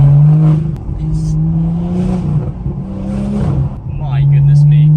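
A car engine hammering against its rev limiter fuel cut-off, a loud, close, stuttering drone that holds high revs with rapid choppy breaks, repeated across the clip.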